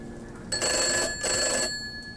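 An old telephone rings in the horror video game Gray Dawn, two long electronic bell bursts separated by a short pause, loud and alone in a quiet room.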